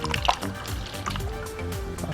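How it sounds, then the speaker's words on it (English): Water pours into a container for a baking soda and fruit drink, a brief close sloshing, gurgling fill with rising pitch, no talking over it. "So what you're going to do is add in 2 cups of water."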